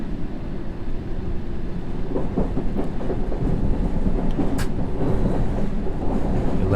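A London Underground tube train in the World of Subways 3 game pulling away, with a low rumbling roll and rhythmic clatter that builds steadily as it departs, loud and continuous, with no talking.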